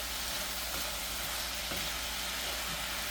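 Green onions being mixed into a chicken wrap filling in a hot pan, with a steady loud sizzle throughout and faint stirring scrapes, no one speaking.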